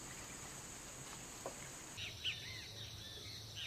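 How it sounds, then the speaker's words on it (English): Rainforest ambience of birds and insects: a steady high insect drone shifting pitch midway, with faint scattered bird chirps and calls at a distance, no voices. "Birds and insects have resettled here"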